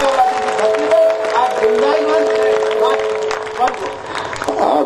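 Applause and cheering from the crowd at an outdoor poetry gathering in Jhunjhunu, a busy wash of clapping under a loud voice speaking over it throughout.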